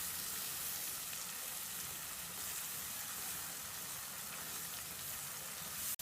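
Chopped onion sautés in melted margarine in a pan, giving a dense, steady sizzle that stays constant and close before cutting off abruptly at the end.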